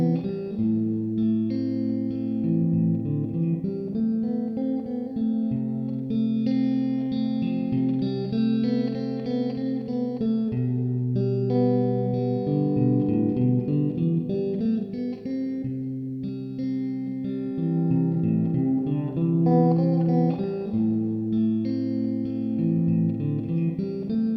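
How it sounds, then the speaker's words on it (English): An electric guitar plays a continuous melodic line with chords through a Mooer Micro PreAMP 006 pedal, steady and loud with no talking. "Let's see to what extent we can change the sound using the knobs on the preamp."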